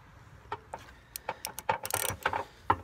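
A tap cutting threads into a stripped spark plug hole in an aluminum cylinder head makes quiet, irregular metallic clicks and ratcheting scrapes, close up, in short bursts without talking.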